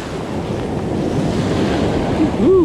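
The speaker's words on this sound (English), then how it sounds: "Wait, we'll let a bigger wave come." Calm evening surf washes and breaks steadily on a beach during saltwater fishing, a continuous broad rush with wind buffeting the microphone, then a brief rising whistle-like tone near the end.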